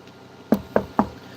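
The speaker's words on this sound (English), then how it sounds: "knock on wood," Three sharp knocks on wood, evenly spaced and close, ringing out alone against a quiet background.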